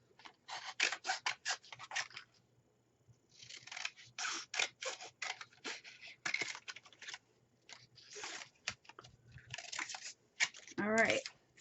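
Scissors snip through paper craft pieces for a shabby chic Christmas bucket kit, giving repeated close, crisp cuts in quick bursts separated by short pauses, with a brief squeaky rustle near the end.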